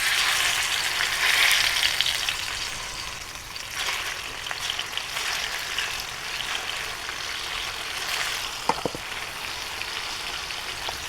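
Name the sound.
frying fish in hot oil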